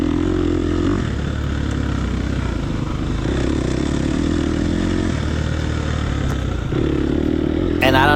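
A dirt bike engine revs hard and steady as the rider throttles out of a corner on a hilly off-road race course, its drone loud and close, with a sharp clatter at the very end.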